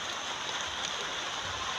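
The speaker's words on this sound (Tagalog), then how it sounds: "Ayun, ang lakas na naman ng ulan." Heavy rain pours down in a rural garden, a dense, steady hiss of drops striking surfaces with no pauses, fairly loud and close.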